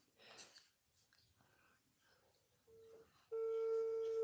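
A phone call being dialed during a live stream: quiet rustling and faint murmured voices, then steady electronic tones beginning softly and swelling into a loud, sustained ringback or dial tone near the end.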